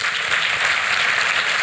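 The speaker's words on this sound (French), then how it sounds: "On peut l'applaudir très fort." An audience at a political forum on Hungarian dissidence breaks into sustained applause, a thick, even roar of clapping filling the room without a break.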